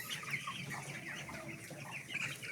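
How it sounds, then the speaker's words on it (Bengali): Broiler chicks about twenty-four days old cluck steadily in a shed, one side of it in sunlight. A close, continuous chorus of overlapping soft calls and chirps, with no talking. "মুরগিগুলো রয়েছে"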